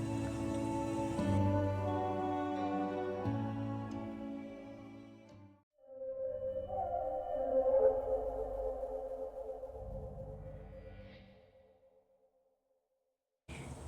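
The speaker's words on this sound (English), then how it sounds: "Here again is a healing ritual with sound bowl and crystals combined." A sound bowl rings with sustained, shimmering overtones that swell, fade, and return, slowly decaying into near silence before a brief final sound.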